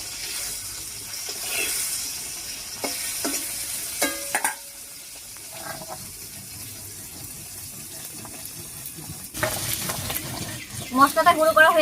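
River fish frying in a pan for a bitter-gourd fish curry, a steady close sizzle broken by stirring and utensil clatter, with a louder burst of frying near the end.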